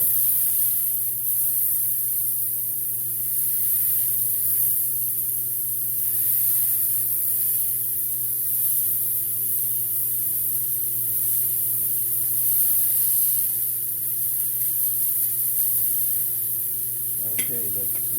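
Hamburger patties sizzling on a griddle, a steady broad hiss of frying with a faint constant hum beneath, running continuously with a brief scrape near the end.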